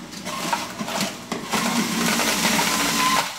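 A Jack LaLanne electric juicer grinds a green vegetable fed through the top, producing a steady, close, whirring motor drone with crunchy shredding and a few brief clicks along the way.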